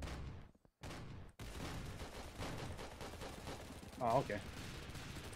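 Rapid bursts of gunfire ring out in a shooter video game, with repeated shots over a few seconds and a brief spoken remark partway through.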